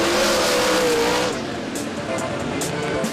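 Race cars roar along a dirt track during a heat race. The engine noise is loud and sustained, with a rising whine early on, and an announcer talks over it throughout.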